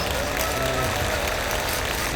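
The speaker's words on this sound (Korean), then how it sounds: "박수 한번 주시죠, 여러분." Applause from an audience at a talk concert, a steady dense wash of clapping and crowd noise filling the whole moment, fairly loud and close, with no one speaking over it.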